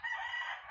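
A farm-raised rooster gives one short, fairly faint crow, heard alone with no talk.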